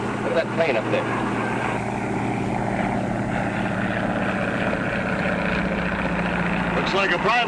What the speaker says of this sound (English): Look at that plane up there.